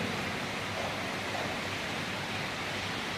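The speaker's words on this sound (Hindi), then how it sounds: "क्यों यार इतना भयंकर बारिश हो रहा है।" Heavy rain pouring down in Qatar, a dense, steady broadband roar of downpour with no breaks, loud and close throughout and no voices.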